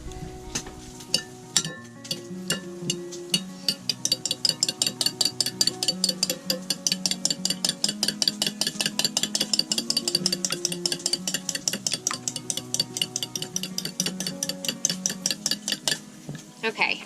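A utensil scrapes and taps quickly against a pan as eggs are scrambled for a Spam-and-egg meal aboard a sailboat, producing a steady run of metallic clinks that grows denser toward the end.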